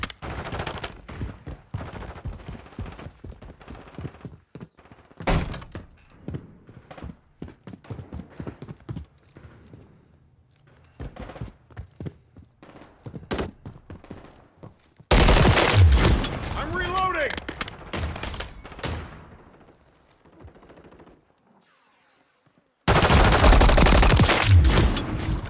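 Gunfire in Call of Duty Modern Warfare 3 multiplayer, with scattered single shots and short bursts early, then two loud sustained volleys of automatic fire, all mixed with game radio chatter.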